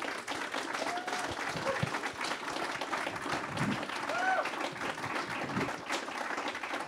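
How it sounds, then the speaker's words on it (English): An audience at a live tech panel on the connected home applauds the panelists with sustained, even clapping from a crowd, while a few voices carry faintly under it. "Let's give our panelists a round of applause."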